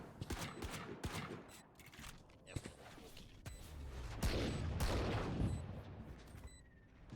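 Dense, rapid gunfire from Valorant during a competitive esports semi-final match, with many overlapping shots, impacts and ability effects ringing out continuously, and a caster's voice faintly underneath.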